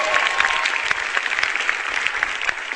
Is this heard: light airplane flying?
no